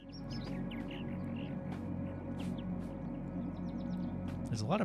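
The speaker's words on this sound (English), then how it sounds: "There's a lot of birds in this game." Small birds chirp and tweet in a few quick, scattered bursts over a steady ambient drone in the video game AER: Memories of Old, light and fairly distant, without any talking.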